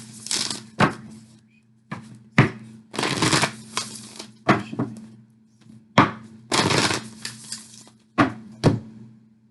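Love cards are shuffled during a card reading, heard as repeated close riffling bursts and taps over a faint steady hum.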